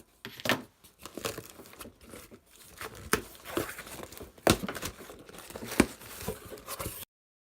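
A cardboard shipping box marked fragile being cut open during an unboxing, heard as a run of crinkling, scraping and tearing bursts with sharp rips, moderately close and with no talking.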